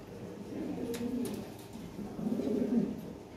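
A large Lahore pigeon coos nearby, two soft, rolling low-pitched coos in quick succession against a quiet background.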